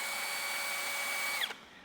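A Malco FSXS drill-assist seamer runs with a steady, high-pitched drill motor whine, then abruptly winds down and stops near the end.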